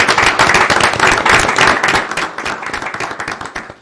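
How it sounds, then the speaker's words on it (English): A council meeting audience gives a round of applause: dense, steady clapping from many hands, loud and close, lasting throughout and tapering slightly toward the end. "let's give her a round of applause"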